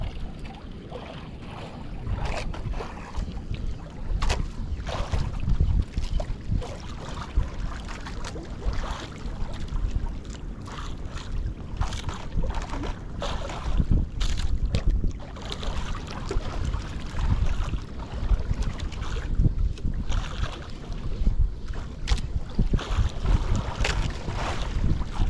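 Strong gusting wind buffets the microphone on a small fishing boat at sea off Bali, a continuous roaring rumble with water splashing against the hull and no voices.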